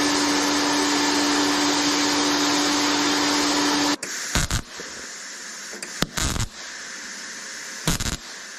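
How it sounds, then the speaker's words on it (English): Welding on a turbocharged Subaru STI's exhaust flex joint: a steady, loud, harsh buzzing hiss runs for about four seconds, then breaks into short separate bursts with quieter gaps between them. "Let's try to weld it real quick."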